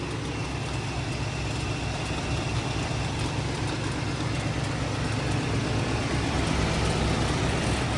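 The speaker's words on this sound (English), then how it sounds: "Engine sounds really good." A 1984 Chevrolet El Camino engine with stock manifolds idles with a steady, low rumble, close by and unbroken for the whole stretch, no voices.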